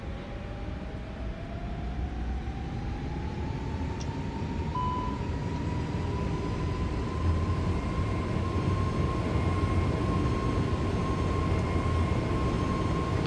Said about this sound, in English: Let's give her some full throttle, so you guys can also hear the sound of this plane.